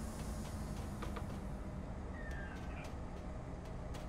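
TGV train pulling out alongside at Strasbourg in Train Simulator, heard as a steady low rumble with a faint rising whine and light clicks, quiet and continuous.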